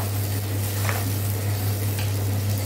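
Gentle steady sizzle as ground tomato (three tomatoes) is added to onions frying in a pan for a brinjal and fresh anchovy curry, with soft stirring scrapes over a low constant hum.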